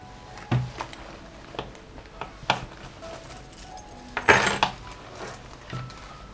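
A bunch of keys jangles and clinks in a series of short, close metallic bursts, loudest about two-thirds of the way through, with quiet handling noise between them and no talking.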